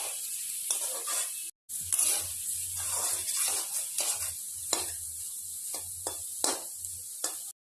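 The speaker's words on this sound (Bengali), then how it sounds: "সবগুলো সোয়াবিন এইভাবে ভেজে নেবো লাল লাল করে" Soybean chunks fry in a pan and are stirred: a loud, continuous hiss of sizzling oil, broken by repeated scraping strokes of a spoon and two brief drops to silence.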